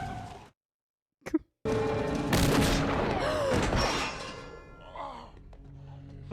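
A gunshot from a Western-style space drama, a sharp, loud crack after a brief silence, followed by several seconds of dense, noisy scene sound and rumble that fade near the end.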